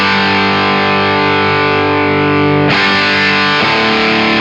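An electric guitar through an Eastwood Black Box drive pedal with the tone knob turned down rings out a loud, sustained distorted chord, then is restruck with a brighter attack near the end.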